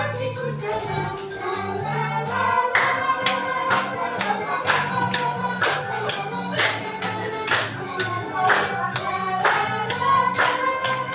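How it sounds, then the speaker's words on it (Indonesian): A group of teachers claps in a patterned rhythm at a school training session, crisp repeated bursts with pauses between sets, under soft background music and faint voices. "Tepuk dulu"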